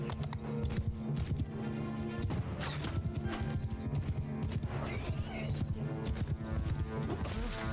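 Horse hooves clip-clop in a medieval mounted battle in the video game Mount & Blade II: Bannerlord, a fast galloping rhythm sounding steadily throughout alongside clashing combat noise.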